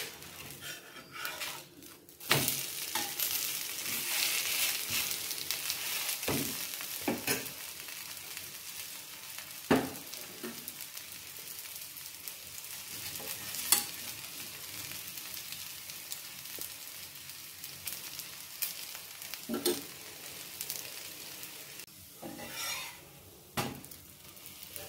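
Tapioca adai frying in oil on a pan, a continuous hissing sizzle punctuated by occasional clicks and scrapes of a spatula, moderately quiet and close, without talk.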